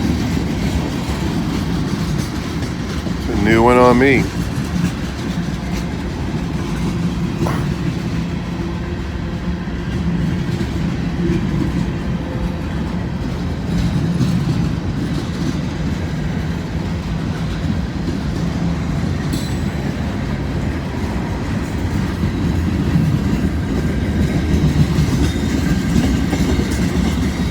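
CSX freight cars roll past on the rails in rainy weather, a loud continuous rumble and rattle close by with a brief squeal early on and a few words spoken over it.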